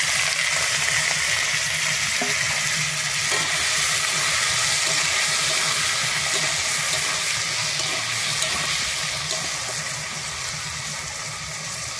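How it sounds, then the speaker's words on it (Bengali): Potatoes frying in hot mustard oil in a wok, giving a loud, dense, continuous sizzle that fades slightly toward the end, with no voices. "আলুগুলোকে ভেজে নিচ্ছি।"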